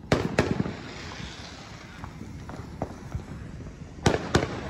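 Fourth of July fireworks boom and crackle at a distance, with several sharp bangs spaced over a steady outdoor crowd-and-wind background.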